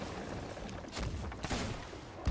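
Ship cannons firing in a chaotic naval video game battle, a rapid cluster of sharp booming volleys under steady background noise, ending in a heavy low thump.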